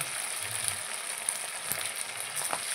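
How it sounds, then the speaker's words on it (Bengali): Chicken pakora pieces, made without egg and with large chunks of meat, drop one at a time into hot oil and fry with a steady close crackling hiss, small pops rising over the bubbling and no one talking. "এই দেখো তেল কিন্তু গরম হয়ে গেছে, বুঝতে পেরেছো? তো এইভাবে একটা একটা করে ছাড়তে হবে।"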